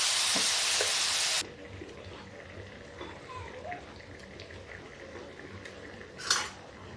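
Tomatoes and salt hitting a hot pan on a high gas flame give a loud, close hiss for about a second, then fall to a quiet, low simmer with faint utensil clinks.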